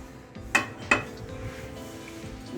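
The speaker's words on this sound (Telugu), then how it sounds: "గిన్నె పెట్టుకుందాము" A pot is set down on a kitchen stove before cooking a yellow cucumber curry, with two sharp metallic clanks about a third of a second apart over a quiet background, and no talking.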